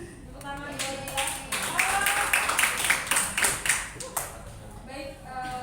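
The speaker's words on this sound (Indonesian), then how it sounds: "Tepuk tangan buat kita." Students applauding in a classroom, a burst of loud, close, rhythmic clapping lasting several seconds before fading, with voices in the room around it.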